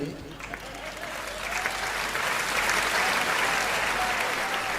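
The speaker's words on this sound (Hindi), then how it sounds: "एक बार अच्छी ताली बजा दीजिए।" Applause from the crowd at a Hindi kavi sammelan poetry gathering starts lightly and builds into a fuller, steady clapping that keeps going to the end.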